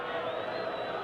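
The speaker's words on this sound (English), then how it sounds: "the crowd chanting for the first time" A rugby crowd at a 1968 Wales tour match against a provincial selection in Argentina, a distant, steady roar of many voices chanting, faint and continuous without breaks.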